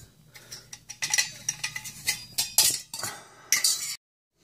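Nesting camping cook pots of different sizes are packed one inside another. Close, bright metallic clinks and clatters come in a quick, uneven series for about four seconds, then silence.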